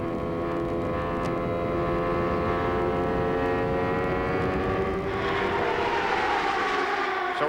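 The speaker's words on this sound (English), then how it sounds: "Let's listen to this engine" An IndyCar racing engine screams at high revs during a 1994 race at Phoenix, a loud sustained whine that shifts pitch as the car passes, with crowd and track noise behind.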